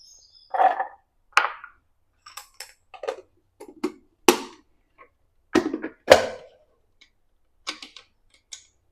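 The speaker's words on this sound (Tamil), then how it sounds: "இப்போ இந்த ஆனியன்லாம் நான் கொஞ்சம் சாப் பண்ணிக்கிறேன்" Onions are chopped with a knife on a board, giving sparse, irregular sharp taps and thuds separated by quiet gaps, close and fairly crisp.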